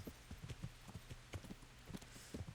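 Horse hooves climbing a forest hill in Kingdom Come: Deliverance, a steady rhythmic clip-clop of footfalls, fairly faint under a soft ambient bed, no talk.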